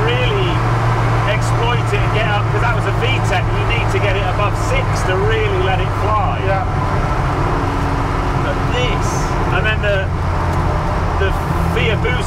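A turbocharged 16-valve ZCars Hillman Imp engine of about 300 hp, pulling hard with loud continuous roar and rising, falling revs, heard from inside the car under excited talk.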